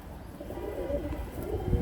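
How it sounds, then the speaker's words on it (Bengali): Pigeons, a pair of Pakistani Teddy males, give soft low cooing and rumbling close by against a faint background hum, with no clear speech over it. "কবুতর পেয়ারগুলো দেখেন, ইনশাল্লাহ ভালো লাগবে, দুটোই কিন্তু নর।"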